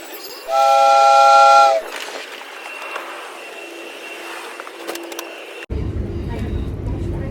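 A train horn sounds a long, loud blast in New Zealand, followed by the rumbling hum of a moving train and cabin noise.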